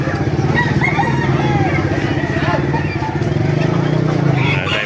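Roosters crow at a busy chicken market in Baliuag, amid steady crowd chatter and a passing motor engine.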